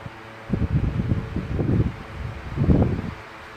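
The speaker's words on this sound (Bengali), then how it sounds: "প্রচণ্ড বাতাস" Strong wind blowing through coconut palm fronds, low buffeting gusts that rise and fall in three surges, close to the microphone and with no talking.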